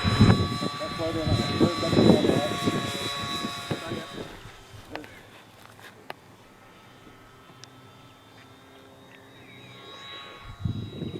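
A light aircraft on low approach with its flaps down, engine struggling for power; a steady drone runs throughout, loud at first and then settling lower, with voices talking over it early and again at the end.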